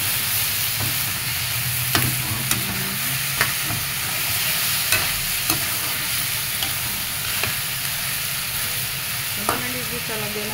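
Fried chicken for adobo sizzles steadily in a pan while a utensil stirs it, giving regular light scraping knocks every second or so over the constant frying hiss; no one speaks.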